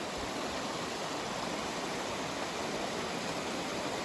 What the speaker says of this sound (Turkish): Suyun gelişini görüyorsunuz. Bu tarafta bir tane daha şelale var.